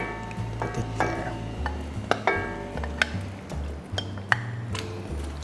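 A spoon stirs hard-boiled eggs through adobo sauce in a pan, with repeated clinks and scraping strokes against the metal over a low simmer.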